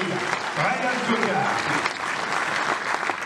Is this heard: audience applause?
yes